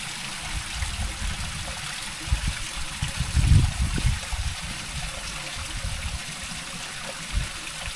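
Water from a spring source in Palawan trickles and flows steadily, with a few louder gurgling splashes near the middle of the stretch.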